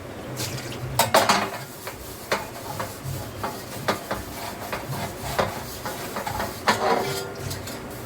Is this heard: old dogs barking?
no